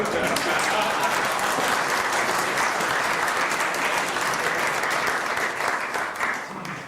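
Lecture audience applauding after a talk, dense and even clapping that holds steady for about seven seconds, with some talking mixed in.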